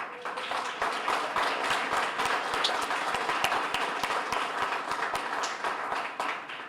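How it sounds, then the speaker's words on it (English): Audience applause at an evening anniversary commemoration of the FDR wheelchair statue: steady clapping from many people, with sharp individual claps standing out, continuing evenly throughout. "deserves another round of applause"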